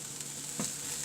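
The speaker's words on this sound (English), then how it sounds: "I'm just trying to fry it here on the other side separately" Tofu kofta frying in a pan, a steady faint sizzle throughout with a single soft scrape or tap near the middle.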